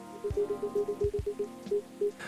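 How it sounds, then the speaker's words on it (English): Soft rain falls outside in the Coffee Talk 2 video game, a gentle patter under a calm melody of repeating notes with a few low thumps, no voices. "A place to be safe while the rain falls outside."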